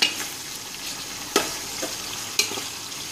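Onions and potatoes frying with salt in a pan, a close steady sizzle broken by a few sharp scraping stirs.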